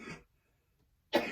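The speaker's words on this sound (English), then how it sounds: "I am really, really sorry about this cough" A woman's single short cough opens the moment, followed by a pause and a second throaty cough or throat clearing.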